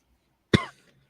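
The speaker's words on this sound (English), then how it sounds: "Sorry, I'm coughing" A single sharp cough from a person, close and fairly loud, with a short rough tail fading into quiet.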